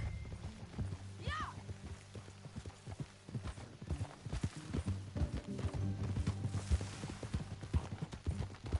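Horse hooves clip-clop in a steady, rhythmic run in Red Dead Redemption 2, fairly faint, with a brief whinny near the start and some talk mixed in.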